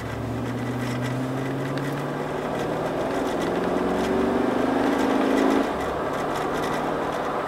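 A 2009 GMC Yukon XL's engine pulls hard from 0 to 60, droning loud and close with rising harmonics through the gear shifts, then the pitch drops as it lets off near the end.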